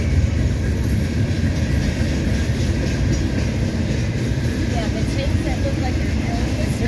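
A Norfolk Southern mixed manifest freight train passes northbound on track one, a steady loud rumble of rolling cars and wheels on rail, continuous and close throughout.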